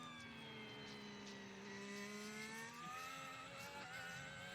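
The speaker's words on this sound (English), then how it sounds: "Sounds like a Formula E car, doesn't it, in the background?" McLaren Formula 1 car at 2024 pre-season testing, a high tonal whine with layered harmonics that slowly rises and falls, sounding electric, heard distantly and steadily without speech.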